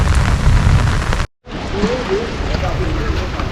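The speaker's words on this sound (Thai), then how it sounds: "ฝนมันตกแล้วตอนนี้ก็คือเที่ยงแล้ว" Steady rain falls outdoors in a Thai village, a loud continuous broadband hiss with a brief cut, then resuming with faint speech-like voices and other sounds under it.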